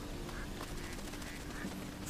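A duck in the Risen 3 video game gives a few faint quacks over a steady background hum, with soft voice-like sounds underneath.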